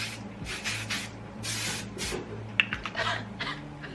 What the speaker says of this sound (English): use this volume spray by Kenra, and then also to use my hairspray